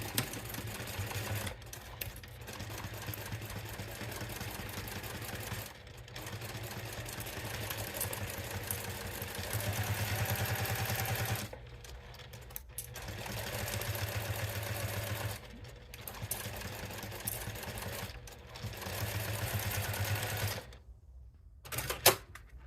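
Sewing machine stitching clear vinyl under a guide foot, running in several bursts of rapid mechanical whirring and needle clatter, separated by short pauses, close and fairly quiet.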